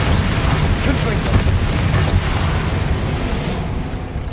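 Confringo fire spell blasts from the video game Hogwarts Legacy, a dense, sustained rumble of booming explosive bursts with crackling noise, loud and continuous throughout with a brief surge near the middle.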